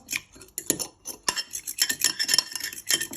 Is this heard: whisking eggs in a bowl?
yes